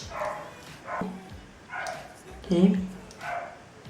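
A dog gives several short, sharp barks or yips at a steady pace, close by, while someone talks during a smoky eyeshadow makeup session.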